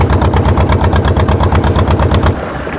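A boat's engine chugs in a loud, fast, regular rhythm during a crossing of the Godavari river between the West and East Godavari districts, close by, then drops off slightly near the end.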